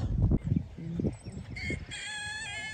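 Soft chirping and peeping of baby turkeys, close by, mixed with low rustling noises, the high calls growing clearer toward the end.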